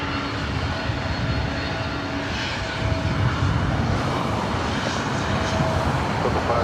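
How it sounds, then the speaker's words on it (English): Thirty-one-year-old Boeing 767-300ER jet taking off at Los Angeles International Airport, a continuous loud broadband engine roar that holds steady and swells slightly partway through, with no voices. "And the 767 number 2 for takeoff."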